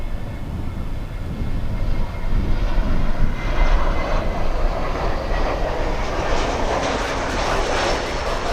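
A Global X Airbus A320 passes loud and close, its engine roar swelling and broadening into a rushing, hissing whoosh that holds for several seconds, with no talking.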